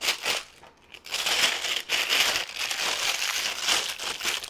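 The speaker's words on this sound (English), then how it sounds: "So you're going to cut into your bag" Crinkling and rustling of a plastic pastry bag being cut and handled for royal icing, close and fairly steady, with no talk.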